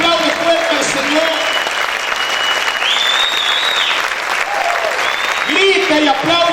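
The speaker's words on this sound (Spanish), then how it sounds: "Aplaude, aplaude, aplaude fuerte al Señor." Church congregation applauding loudly and steadily throughout, a dense wash of clapping with a preacher's voice and singing cutting in over it.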